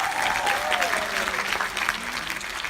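Audience applause at a business conference event, sustained clapping from a crowd filling the whole stretch, with a faint voice over it.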